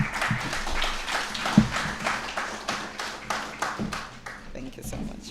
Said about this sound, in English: Keep the applause going for Coach.